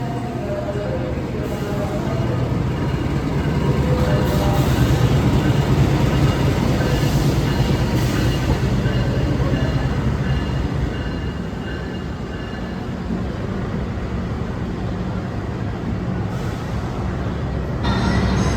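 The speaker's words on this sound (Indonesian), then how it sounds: "Ini ada kereta api komuter lain Arjonegoro dari Sidoarjo ke arah Babat." A commuter train passing at Surabaya Gubeng station in Indonesia, a steady loud rumble of rolling wheels and carriages with faint squeals, continuing throughout under a voice.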